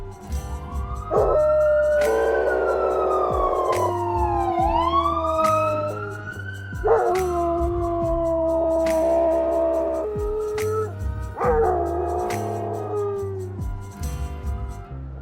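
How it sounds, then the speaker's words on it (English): A dog howls along with a passing emergency siren outdoors, its long rising and falling wails overlapping the loud, sweeping siren tones for the whole stretch. "a howler who howls, just because that's what he's always done."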